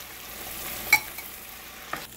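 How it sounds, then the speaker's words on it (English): Browned, salt-and-peppered chicken thighs move from a hot pan into a crock pot, with a faint steady sizzle, one sharp metallic clink and a softer clatter near the end. "we're just gonna transfer these thighs right into"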